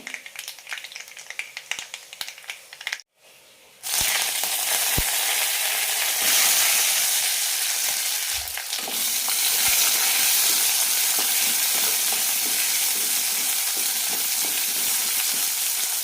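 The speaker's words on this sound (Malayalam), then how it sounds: "ചെറിയുള്ളി കണ്ണാടി പരുവാകുന്നവരെ വഴറ്റിയെടുക്കാം" Shallots and curry leaves sizzle loudly and steadily in oil with popped mustard seeds after a brief quiet moment, a constant frying hiss with faint stirring clicks.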